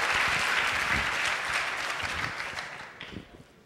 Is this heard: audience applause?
yes